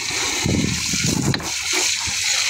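Water poured into a container to top up a planted tank kept without an oxygen pump, a steady splashing gush running continuously and close by.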